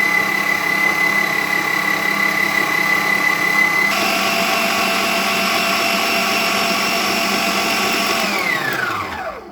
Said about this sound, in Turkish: mikserimi çalıştıracağım